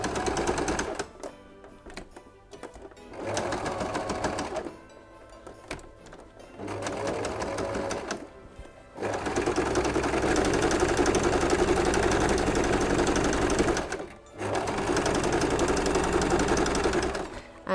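A sewing machine stitches an elf stocking, including a short reverse stitch to secure the seam, running in several loud bursts with brief pauses between them and a long continuous run near the end.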